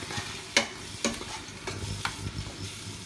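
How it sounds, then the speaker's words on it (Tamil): Onions for chicken dum biryani fry quietly in oil, with a soft steady sizzle and a few scrapes and stirs of a spoon in the pan. No one speaks. "பிரியாணி பாருங்கள் நல்ல வெங்காயம் நல்லா வதங்கிடுச்சு எண்ணெய் ஊஸ் ஆகுது"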